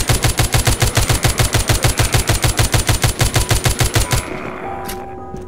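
Rapid automatic gunfire from a zombie shooter video game, Walking Zombie 2: a loud, steady burst of evenly spaced shots lasting about four seconds, then stopping abruptly into quieter game ambience.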